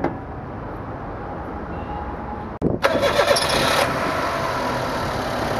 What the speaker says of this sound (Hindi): ओके जी, देख सकते हैं the car is now started